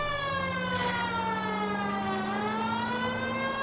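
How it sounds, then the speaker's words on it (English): A police car siren in a PS4 video game wails steadily and loudly, its rising and falling tone sweeping continuously for a few seconds with no talking over it. "Maybe this siren would help."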